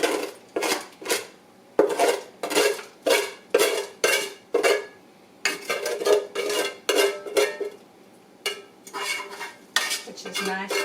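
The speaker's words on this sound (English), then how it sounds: "And this will be stirring up." A big pot of chili is stirred with a utensil. Repeated loud, close scraping strokes rasp against the pot in a steady back-and-forth rhythm, with short pauses between bursts.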